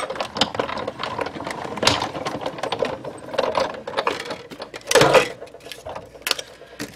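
A die cutting machine runs Whisper White cardstock through with a stitched oval die, giving a close rapid mechanical clatter of ratcheting clicks and grinding that pulses on and off at moderate volume.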